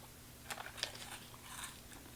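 Soft, close chewing of crunchy little cheese puff snacks, faint crunches and bites in a quiet room with no talk.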